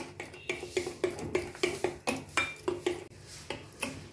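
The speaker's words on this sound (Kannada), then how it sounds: "ಇಷ್ಟನ್ನು ಹಾಕೊಂಡು ನೀಟಾಗಿ ಮಿಕ್ಸ್ ಮಾಡ್ಕೊಳ್ಳಿ" A spoon clinks and scrapes steadily against a bowl while sugar, salt and ghee are mixed together, a quick rhythmic series of close, bright taps with no talk.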